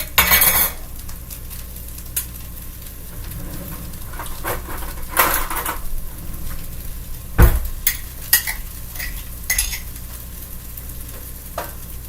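Beans go into a pan of homemade salsa, with clattering cookware, stirring scrapes and a sizzling background, plus a sharp thump partway through, all close and without speech.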